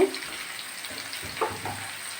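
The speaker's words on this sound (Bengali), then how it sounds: "বেগুনটা আমি পরে দিচ্ছি আলুর ভিতর দিয়ে ভেজে নেব" Aubergine and potato sizzle and fry in a pan, a steady close crackle with a few louder spatters and stirring bursts, no talking.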